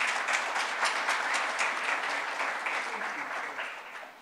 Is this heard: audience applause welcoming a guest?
yes